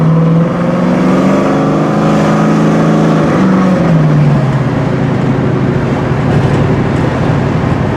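A 1968 Pontiac Firebird's engine rumbles through full dual 2.5-inch stainless steel exhaust with an X pipe, pitch climbing then dropping as it accelerates and eases off, with a throaty, steady roar.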